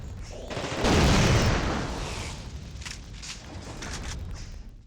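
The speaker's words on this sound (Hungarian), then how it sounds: "Nyilván oda volt rakva egy robbanó hordó, mert hogy szétlőjem nyilván." An explosive barrel is shot and bursts in The Thing: Remastered on PS5, a loud deep boom that swells and then rolls away into a long rumbling tail.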